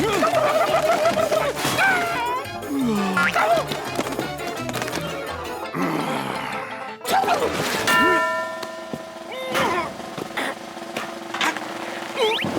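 A cartoon turkey gobbles in bursts over busy animated sound effects, with horse-like clip-clop and whinnying noises mixed in among music and commotion.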